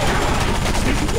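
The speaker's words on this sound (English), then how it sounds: "I hate it when guys shoot back." Dense bursts of gunfire from enemies shooting back in the video game Area 51, a loud, rapid, continuous barrage.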